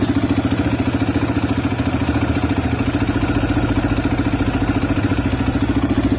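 A CSC RX3 motorcycle engine runs steadily up close, with a dense low rhythmic thrum and a faint mechanical clatter. The sound is loud and continuous, with a slight deepening of the pulse partway through and no talk over it.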